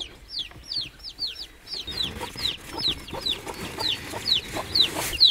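Hens inside a hen house give a steady series of rising clucks and chirps, one after another in a fairly even rhythm, growing slightly louder and nearer toward the end, with no speech.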